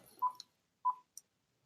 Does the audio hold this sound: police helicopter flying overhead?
no